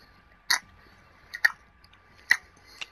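Someone chewing food with the mouth closed, giving three or four distinct, moist, close bites spaced about a second apart against near silence.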